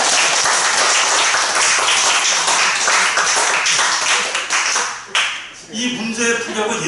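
A lecture audience claps loudly for about five seconds, then the applause fades and a voice begins speaking.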